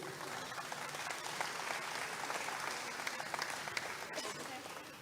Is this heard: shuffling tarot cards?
no